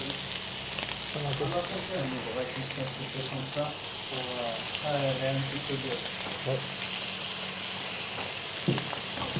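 Aged beef fat sizzles steadily in a hot pan, a close bright crackle, while people talk over it.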